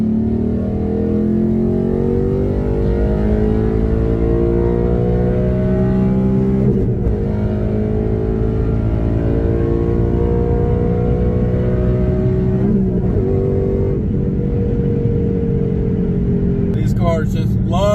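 A second-generation Coyote V8 Ford Mustang GT revs and pulls hard under load in a third-gear pull from 4,000 rpm, pitch climbing steadily through a long acceleration, loud and close throughout with a brief gear-change dip.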